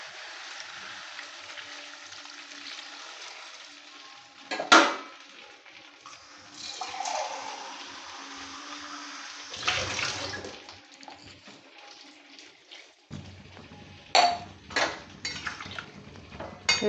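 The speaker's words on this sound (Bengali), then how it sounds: "কষানো হয়ে গেছে, এবার আমি জল ঢেলে দেবো।" Water pours into a pan of Bengali fish curry (machher jhol) after the spices are fried, a steady rushing pour with sharp clanks of the pot and utensils in a home kitchen.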